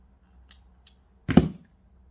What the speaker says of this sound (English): You're going to cut off your extra thread.